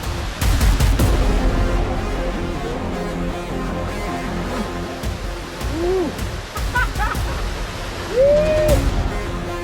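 Water rushing into a canyon at Chapada dos Veadeiros, a dense continuous roar of flowing and falling water, fairly close, with faint bird or animal chirps over the top and no speech.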